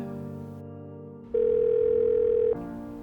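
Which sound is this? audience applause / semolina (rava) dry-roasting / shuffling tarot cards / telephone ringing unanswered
telephone ringing unanswered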